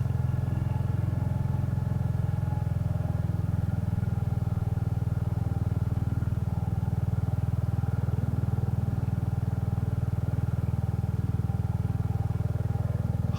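A motorcycle cruises along a quiet rural road, a steady low engine drone holding an even pitch for the whole stretch, close and continuous with no other traffic and no speech.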